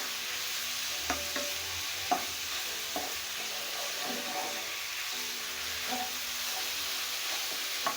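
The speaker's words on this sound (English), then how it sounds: "Make sure the meat is coated with the garlic and ginger and onions and stir for about 1 minute" Meat being stirred in a hot pan with garlic, ginger and onions, a steady frying sizzle with scattered scraping clicks of the utensil throughout, close and moderately loud with no talking.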